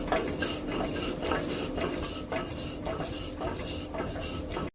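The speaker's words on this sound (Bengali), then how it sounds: "জিরা নিয়ে নিচ্ছি, এখন বেটে নেব।" Black cumin (kalijira) being ground for bharta, a steady scraping, rasping grind on a stone that carries on throughout, close and fairly loud, with no talking.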